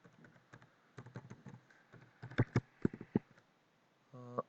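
Typing a password on a computer keyboard: a close, quiet run of irregular key clicks, with a few heavier taps near the end, heard alone without talk.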